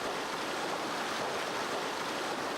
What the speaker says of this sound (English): The Lobe Falls are beautiful but modest in every way.